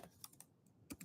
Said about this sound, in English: I'm going to be typing this in while I talk